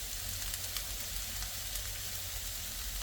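Vegetables such as bok choy, cut into even bite-sized pieces, stir-fry in a pan for yaki soba, giving a steady, close hiss and sizzle with no break and no talking.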